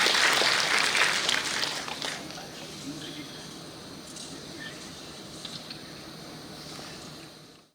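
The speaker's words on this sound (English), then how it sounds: "a big round of applause" At a university launch event for an international relations office, an audience claps in a dense burst that is loudest at the start and then thins to lighter scattered clapping. It fades out completely near the end.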